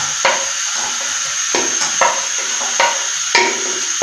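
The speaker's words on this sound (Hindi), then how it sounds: "इसमें व्यूअर्स हम प्याज डाल देते हैं।" Onions frying in hot oil in a pan for beef dal gosht, a loud constant sizzle with periodic stirring scrapes about every half second to second, close up, no speech.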